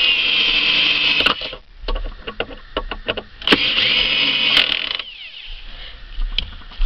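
An AEG BS18C cordless screwdriver drives screws into wood in short whirring bursts, with ratcheting clicks and a steady hum between runs and a faint electronic whine, close and fairly loud.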